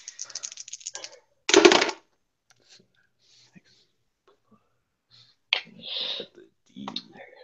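Dice rolling and clattering on a table during a tabletop role-playing game session, one short rattling burst followed by sparse clicks, with quiet voices murmuring nearby.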